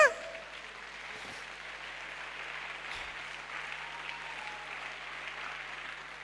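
Church congregation applauding in praise, a steady wash of clapping that holds for several seconds at moderate level, with a faint voice or two underneath.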